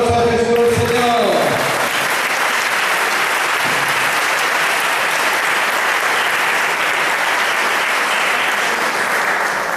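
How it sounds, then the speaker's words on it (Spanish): A church congregation at a Pentecost service applauding, dense loud clapping that swells right after a brief spoken phrase and continues steadily as a sustained roar of hands. "Un aplauso a Jesús el Señor."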